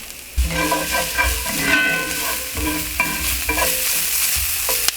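Meat and garlic fry in a hot pan, a steady loud sizzle broken by scraping stirs and metallic clinks of a utensil against the pan.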